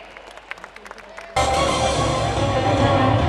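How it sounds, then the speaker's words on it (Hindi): A crowd at a college cultural fest show breaks into loud, sustained applause and cheering for a comic drama team, starting abruptly after some scattered claps and continuing without pause. "तो एक बार जोरदार तालियां बजाएंगे हमारे ड्रामा टीम मेंबर्स के लिए"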